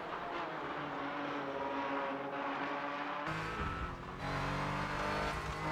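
Porsche race cars battle in a racing video game at Circuit de Spa-Francorchamps, engines screaming at high revs with a sudden shift to a deeper roar as another car closes in, loud and continuous.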